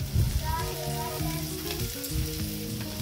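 Chopped masala with green peas and salt frying in a pan, a steady sizzle with occasional stirring, partly masked by background music with tonal melody lines.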